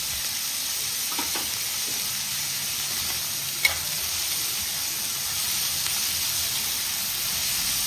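Onions sauté with salt in a hot pan, making a constant hissing sizzle with occasional soft stirring clicks and one brief knock, heard close up and alone.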